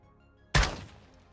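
A single video-game shotgun blast booms out, a sharp heavy report with a short decaying tail, standing alone with no talk around it.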